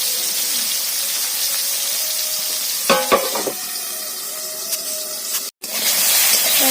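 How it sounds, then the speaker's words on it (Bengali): Bottle gourd pieces fry in a pan with a continuous bright hiss and sizzle, interrupted by a few clattering stirs of a utensil and a brief gap before the sizzle resumes. "এখন বসিয়েছি এই যে লাউ ভাজা"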